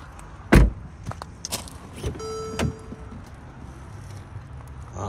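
The sliding front panel of a 2015 Mercedes-Benz GL550's twin sunroof whirs open with a short electric motor hum lasting about a second, between several soft clunks and taps inside the quiet cabin.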